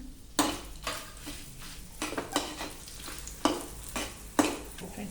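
Fenugreek, coriander seeds and cinnamon are dry-roasted in a pan for hotel-style idli sambar, with a spoon scraping and stirring in repeated close strokes and a few sharper knocks against the pan.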